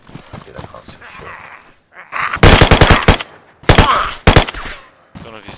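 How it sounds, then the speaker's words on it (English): Rapid bursts of automatic gunfire crackle loudly in the zombie survival game DayZ, two long volleys separated by pauses, with players talking over and between the shots. "I shot somebody a lot."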